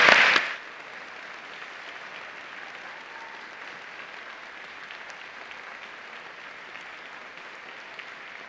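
A short, loud burst of audience applause for a women's history roundtable panel cuts off within the first half second, leaving only faint room noise for the rest.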